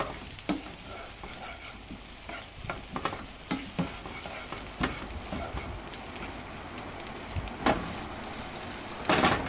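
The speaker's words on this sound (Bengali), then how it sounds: "এরপর এখানে কেটে রাখা ক্যাপসিকামগুলো দিয়ে দিলাম, দিয়ে এটাকে 2 থেকে 3 মিনিট খুব ভালোভাবে ভেজে নেব।" Chopped capsicum frying in a pan, a continuous close sizzle broken by sharp stirring clicks and scrapes of a utensil against the pan, no one speaking.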